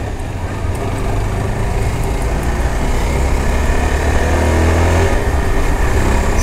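Yezdi Adventure motorcycle engine running steadily on a first ride, a loud continuous low rumble holding throughout with no talk over it.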